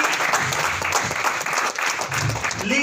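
A crowd claps steadily and fairly loudly throughout, with a voice speaking over the applause.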